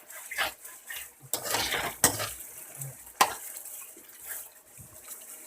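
Onions frying in a pot are stirred with a utensil, giving several scraping strokes and a few sharp metallic clinks over a faint sizzle, close by and moderately quiet.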